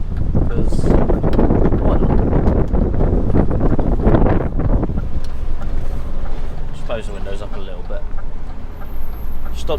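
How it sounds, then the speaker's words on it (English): Wind buffets the microphone inside a moving HGV truck on a warm, blowy day, loud rumbling gusts in the first half giving way to a lighter road and cab hum. "Seems to be a bit blowy around here today."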